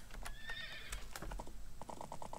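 Horse neighing with a high whinny, followed by a run of steady clip-clopping hooves, from the video game Exile III: Ruined World; close, clear game sound effects with no talk.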